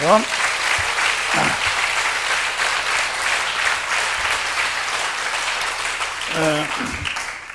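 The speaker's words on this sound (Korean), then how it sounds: "자, 또 박수로 우리 하나님께 영광 돌려" A church congregation applauds in steady, dense clapping that fills the room throughout, with a voice speaking briefly at the start and end.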